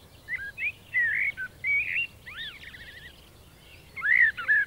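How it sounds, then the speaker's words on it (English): A blackbird sings fluting, melodic phrases with short pauses between them, fairly close against a soft outdoor background. "It was a blackbird."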